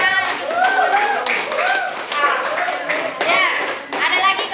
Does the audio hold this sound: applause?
yes